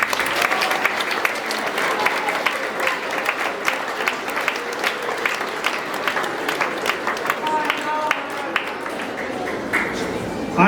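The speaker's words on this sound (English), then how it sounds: "round of applause for Mr." Sustained applause from a school awards ceremony audience, many hands clapping steadily for several seconds with scattered voices mixed in.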